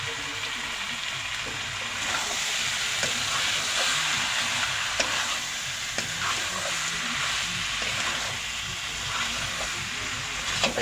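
Chicken curry sizzles and fries in a pan with meat masala, with repeated scraping and clinking of a stirring spoon over a steady hiss.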